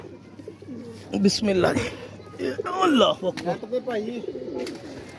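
Pigeons coo on a rooftop loft, their soft rolling calls close and repeated while someone talks over them.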